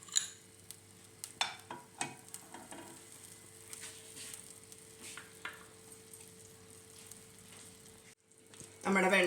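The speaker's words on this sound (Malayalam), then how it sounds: "ഇനി വെജിറ്റബിൾസ് നമുക്ക് വഴറ്റി എടുക്കാം" Vegetables go into melted butter in a kadai for a chicken salad. Several clinks and scrapes of a spatula come first, then a soft, steady sauté sizzle, ending in a brief louder burst.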